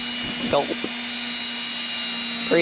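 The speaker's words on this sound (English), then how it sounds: "Pre-drilling." A power drill hums steadily while pre-drilling holes in greenhouse roof panels, with brief voices breaking in near the start and end.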